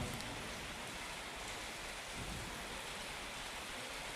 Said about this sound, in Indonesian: dengan diguyur rahmatnya Allah berupa hujan